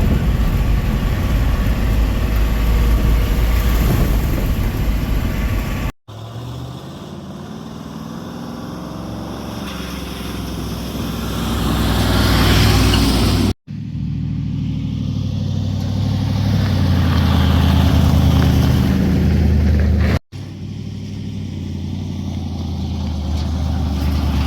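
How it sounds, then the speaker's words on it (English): A 1959 Ford F-100 4x4 pickup's engine runs loud and close, a steady low rumble that rises and falls with revs across several cut segments, with no talk over it. "the truck runs and drives like an absolute dream"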